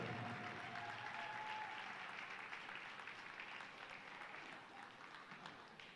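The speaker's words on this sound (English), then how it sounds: "How about one more large round of applause for all of our medal-winning teams" A crowd at an awards presentation for medal-winning teams in the 18 Patriot Division gives a sustained round of applause, a steady wash of clapping that fades slightly toward the end.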